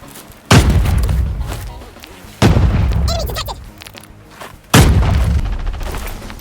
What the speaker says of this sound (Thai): โอ้ยระเบิดมาใกล้ ๆเลยเว้ย